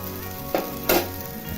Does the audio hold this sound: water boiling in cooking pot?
yes